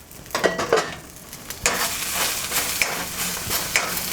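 Small cubes of eggplant sizzle in a lightly oiled pan with steady hissing, while a utensil scrapes and stirs in several distinct strokes, close and fairly loud, with no talking.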